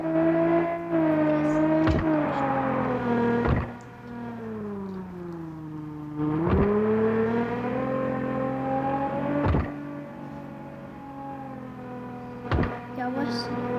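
A car engine in the mobile game Car Parking Multiplayer hums with a steady tone that rises and falls as the car speeds up and slows, broken by a few sharp clicks, while people talk quietly over it.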